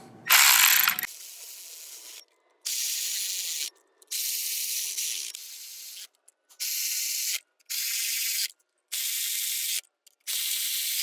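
A power ratchet tightening ignition coil bolts on a Mercedes-Benz C250/SLK250 engine, a loud opening burst followed by six or seven bursts of clicking ratchet whir, each about a second long, separated by brief silences.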